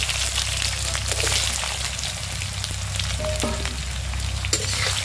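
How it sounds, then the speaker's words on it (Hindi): Diced potatoes hit a pan of lightly fried green chillies and sizzle steadily, a dense, even frying hiss with small stirring clicks throughout. "हरी मिर्च को हल्का सा देखिए भून लिया है, लाल कर लिया है, और इसमें कटे हुए आलू को डालेंगे।"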